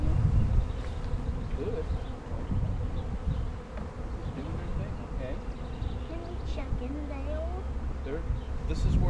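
Honeybee swarm buzzing steadily and densely close by outdoors, a continuous drone with individual bees passing, while a person talks briefly.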